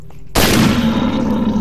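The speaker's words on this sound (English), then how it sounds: "Oh, thank goodness for a shotgun." A single loud shotgun blast in S.T.A.L.K.E.R.: Shadow of Chernobyl bursts in after a short quiet moment, then trails off into a rumbling echo.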